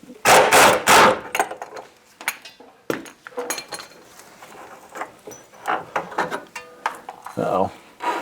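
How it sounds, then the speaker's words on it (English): Metallic clinks and taps of a wrench working a bolt loose from a strut on an old VW Bus, a few sharp bright hits at the start followed by lighter scattered clicks, close and alone. "And the bolt would, or should, come off."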